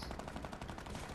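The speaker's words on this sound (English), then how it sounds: "Johnny found that machine gun." Rapid machine-gun bursts from a video game, a dense continuous stream of shots filling the whole moment, loud and close with no talking.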